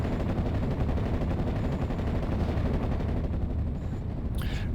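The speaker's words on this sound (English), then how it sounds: "taking some airstrikes there from the P-47 Thunderbolt, and the mortar still, and also now 105mm howitzers" A World War II Normandy battle in Steel Division: Normandy 44 rumbles with steady gunfire and artillery, including mortar rounds, 105mm howitzers and P-47 Thunderbolt airstrikes, forming a thick, unbroken wall of distant booms and crackle. No one speaks.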